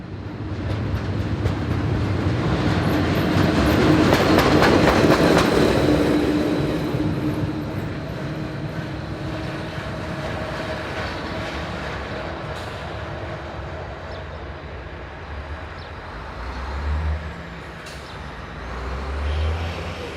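A Class 11641 locomotive runs light engine back toward Langenthal after dropping its timber load, a steady loud rumble with air-brake hiss that swells mid-way and then settles into a lower continuous drone.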